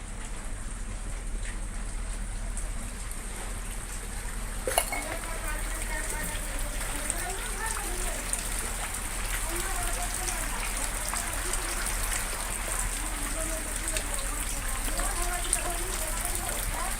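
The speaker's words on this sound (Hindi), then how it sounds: "लोरमी खुड़िया इलाके में भी झमाझम बारिश देखी गई" Heavy rain pours steadily over a village in the Lormi Khudiya area of Chhattisgarh, a dense, even hiss throughout with occasional louder drops.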